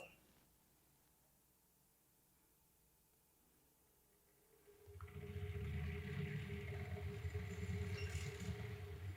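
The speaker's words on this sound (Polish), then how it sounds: "I włączymy sobie znowu wirowanie i znowu 1000 obrotów." An unbalanced laboratory centrifuge spun up to 1000 rpm, loaded with a partly filled tube, is quiet at first and then breaks into a loud, steady rumbling whir with rattling and a sustained hum after about five seconds.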